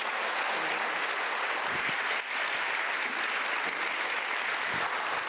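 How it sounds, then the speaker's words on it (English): Audience at an arts festival talk applauding the speaker Eman Mohammed, a dense, continuous roar of clapping that holds steady throughout. "just one amazing round of applause for an incredible woman, Eman Mohammed"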